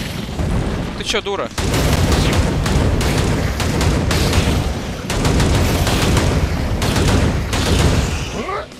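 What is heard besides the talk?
exploding onions in Hellbound video game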